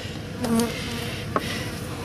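Honeybees buzz in a dense, continuous hum close up inside a hive, with a few individual buzzes rising briefly above the steady drone.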